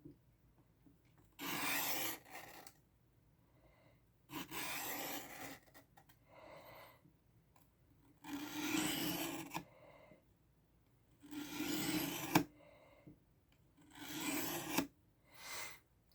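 A knife is drawn across the fine grit side of a Worksharp guided field sharpener in five or six separate rasping strokes, each about a second long, with brief quiet gaps between them, close and fairly soft.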